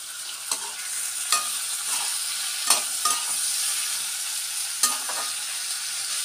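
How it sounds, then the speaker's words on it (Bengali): Prawns frying in a pan, a steady broadband sizzle with a few sharp clinks of a spatula stirring against the metal, close and continuous. "তো মাছগুলোকে আমি এখন ভেজে নিচ্ছি।"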